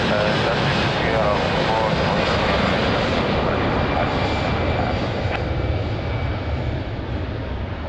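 A fixed-wing airliner departs runway 20 at Lisbon Airport, its engines a loud, broad, continuous roar that fades slowly as it climbs away, heard from a distance, with radio chatter underneath.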